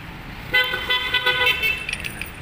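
A hard-starting Ford Ranger with a WL engine gets a start attempt, a close, whining, tonal mechanical drone that rises and wavers for about two seconds.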